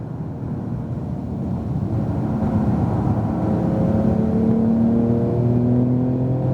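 A 2018 Porsche 911 Turbo S accelerates hard on a race track, its engine note climbing steadily in pitch and growing louder as revs build, heard close and alone.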